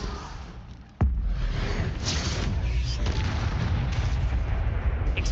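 Spell blasts in Hogwarts Legacy, opening with one sharp loud bang and then a dense, continuous run of crackling magical bursts and impacts, with a voice speaking faintly underneath.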